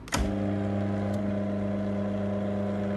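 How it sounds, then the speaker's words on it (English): A NICE sectional door motor, driven by a D PRO ACTION control unit, starts with a brief clunk and then runs with a steady tonal hum, close and constant throughout. "Motor is moving."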